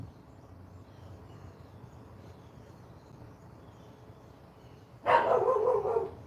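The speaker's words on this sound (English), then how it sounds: "As you hear my dog in the background being an asshole." A dog barks in the background, a short burst of several loud barks near the end after a stretch of quiet ambient hum.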